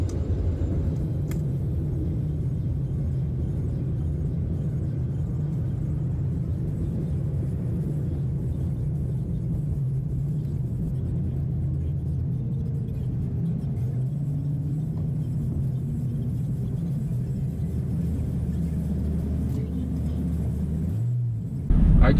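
A steady low road rumble fills the cabin of a car driving into Los Angeles in 5 o'clock rush-hour traffic, constant and unbroken throughout, with a brief thump at the very end.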